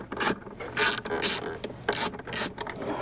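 A Torx T20 driver ratchets in repeated short clicking bursts while loosening bolts from the back of an LED lighting housing, close and clear with no talking.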